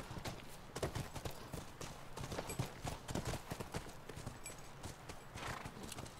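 Horse hooves clip-clop steadily through the scene in The Last of Us, joined by an occasional neigh, with game ambience underneath.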